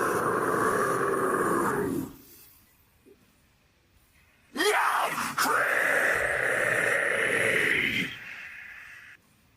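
Deep roaring, groaning voice from the Attack on Titan soundtrack piece Under the Tree, heard as two long guttural bursts separated by a quiet gap, the second one swelling suddenly and holding loudly for several seconds.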